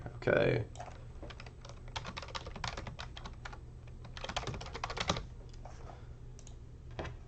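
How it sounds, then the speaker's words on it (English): Rapid, irregular clicking of keys on a computer keyboard, close by, with bursts of faster typing and brief pauses. "they're just going to start typing."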